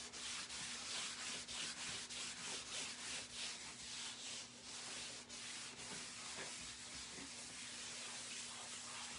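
Wax being rubbed by hand onto a wooden surface, a steady close, soft scrubbing and rasping of repeated strokes with a faint constant hum underneath and no talk.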